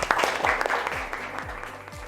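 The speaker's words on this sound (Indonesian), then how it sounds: "Oke, tepuk tangan." Steady applause from a university class group, dense overlapping clapping that fades slightly toward the end.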